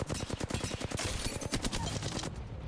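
Rapid bursts of gunfire rattle in a team deathmatch video game, dense fusillades of sharp shots repeating quickly before easing off near the end.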